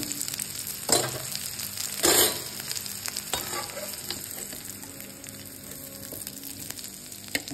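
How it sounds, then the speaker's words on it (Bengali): Cauliflower and eggplant pieces fry in a pan, giving a steady close sizzle with a couple of louder scraping stirs near the start. "এগুলোকে ভেজে নেব, বেগুন আর কপি।"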